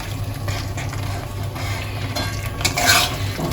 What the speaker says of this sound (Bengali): এবার এটা একটু নাড়িয়ে চাড়িয়ে নিয়ে আমি এবার এর সাথে পটলগুলো দিয়ে দিচ্ছি।